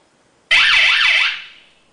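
An electronic bicycle horn on a brake light and turn signal combo unit gives a police-style wailing siren, a loud up-and-down tone sweeping twice in about one second before fading out.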